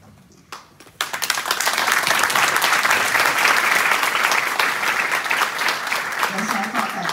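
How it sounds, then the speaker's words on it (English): A large audience at a speech at the Forum 2000 conference in Prague bursts into applause after a brief pause, dense and sustained clapping that swells quickly and carries on loudly to the end. "Yes, I thought that deserved a round of applause"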